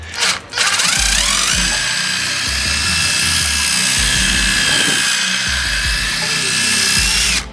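A power drill whines loudly and steadily while countersinking a screw hole in wood for a raised garden bed, with a brief pause near the start and a grinding bite through the timber.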